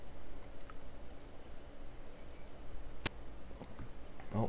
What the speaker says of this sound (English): we heard the squelch pop there